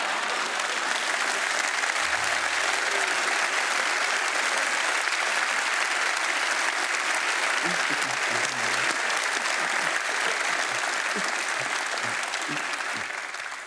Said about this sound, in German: Und die klatschen Hände.